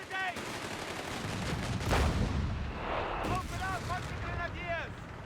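A pack howitzer in Company of Heroes 3 booms out heavy artillery fire amid a busy battle soundscape, with a big blast near two seconds and whistling shells and chirps behind a commentator's voice.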